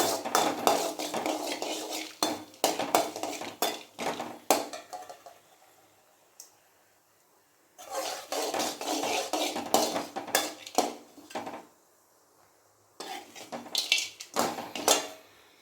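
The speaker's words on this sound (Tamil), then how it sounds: "பிரியாணி இலை, லவங்கம் எல்லாம் போட்டுக்கலாம். போட்டு நல்லா வந்து எண்ணெயிலே நல்லா வதக்கி விட்டுருங்க." Bay leaf and cloves sautéing in melted ghee for a vegetable biryani, with a utensil scraping and clattering against the pan in bursts of steady stirring, broken by short quiet pauses.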